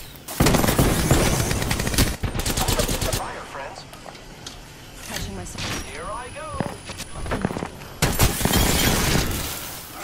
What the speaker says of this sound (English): There's another one shooting us.